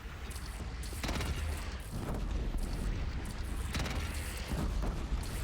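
Cannon fire and combat in Horizon Zero Dawn during a bandit clan battle, with dense rumbling booms and blasts under a constant loud wash of battle noise, heavier bursts recurring every second or so.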